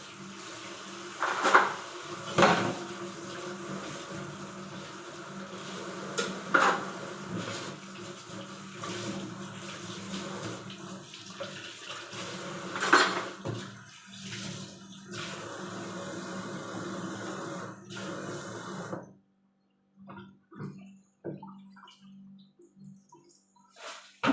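Cups and dishes being washed at a home sink, with intermittent clinks of crockery over running water, fairly close, followed by a quieter stretch of sparse handling sounds near the end.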